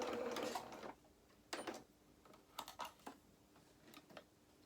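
A sewing machine stitches a quarter-inch seam through fabric for a small doll's winter dress, running in several short, close bursts of rapid whirring with brief pauses between them and no talk.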